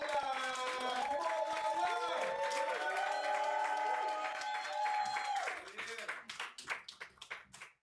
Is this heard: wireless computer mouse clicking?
no